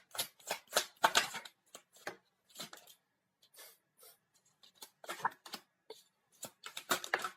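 Tarot cards being drawn from a deck and shuffled, a series of crisp riffling and slapping bursts in irregular clusters, close and fairly quiet with short pauses between handfuls.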